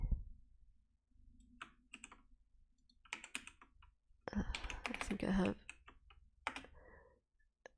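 Keys clacking on a computer keyboard with some unresponsive keys, in irregular bursts of close clicks spread through the clip, with a short stretch of speech in the middle.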